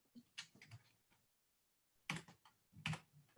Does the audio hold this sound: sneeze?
no